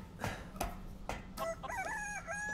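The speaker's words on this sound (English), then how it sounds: "hear chickens" Rooster crowing and chickens in Resident Evil Village, with several short clucks followed by a loud, drawn-out cock-a-doodle-doo close by.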